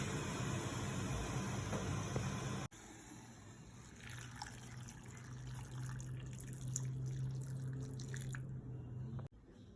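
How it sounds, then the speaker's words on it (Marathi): Hot water poured over finely chopped coconut in a home kitchen, a faint liquid pour and dripping heard close, steady for several seconds between abrupt cuts, with no talking. "आता त्यात गरम पाणी टाकायचं आणि ते भिजवत ठेवायचं"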